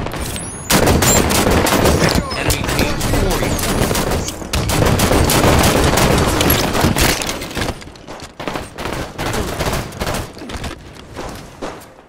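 Heavy gunfire in Halo 5 Big Team Battle, rapid automatic bursts and explosions packed densely and loud for most of the stretch, thinning into separate shots toward the end, with a voice calling out partway through.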